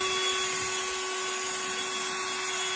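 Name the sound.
cordless snow blower clearing snow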